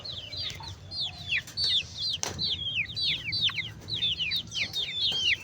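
Chickens feeling the cold let out repeated high, bending clucks and chirps in quick clusters, fairly close, with a soft knock partway through and no talk.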